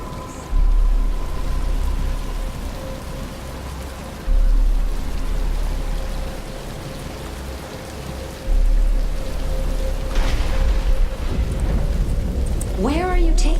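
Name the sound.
rain falling, from the video game Batman Arkham Asylum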